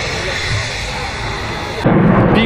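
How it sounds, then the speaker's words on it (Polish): A British Eurofighter jet at a 2023 air show in Radom makes a loud, continuous broadband roar that swells stronger near the end. "A przed nami, szanowni Państwo, brytyjski Eurofighter. To jest kolejny samolot, który narobi bardzo, ale to bardzo dużo hałasu."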